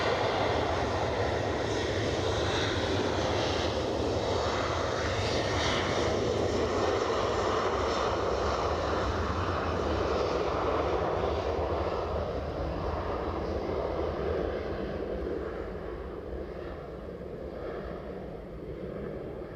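Turkish Airlines jet at Edinburgh airport, a broad roaring engine rumble with wind noise that slowly fades as the aircraft moves away, no voices.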